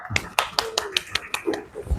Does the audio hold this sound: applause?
yes